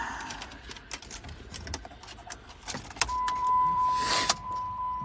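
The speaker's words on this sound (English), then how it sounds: "So I start the car." A 2014 Jeep Compass with a rebuilt title, its ignition clicking and a steady warning chime sounding before a brief, loud crank as the engine catches, heard up close inside the car with no talk.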